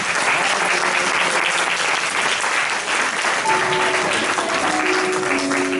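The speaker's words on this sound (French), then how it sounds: "Sous vos applaudissements, s'il vous plaît." An audience applauds as a guest named Jacqueline is welcomed before reading her Christmas poem, a steady full round of clapping from many hands, loud and continuous, with faint voices and tonal sounds surfacing beneath it.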